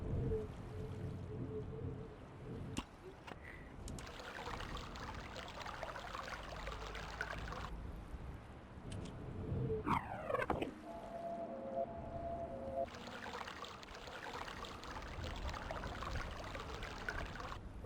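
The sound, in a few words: flowing water sound from Myst video game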